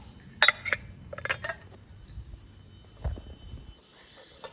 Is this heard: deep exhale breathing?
no